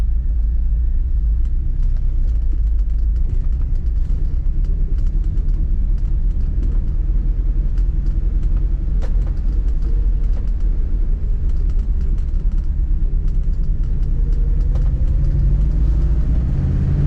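A 1978 Dodge Aspen R/T Super-Pak driving on the road, its engine a steady low rumble under continuous road and wind noise, loud and close from inside or near the car with no talking.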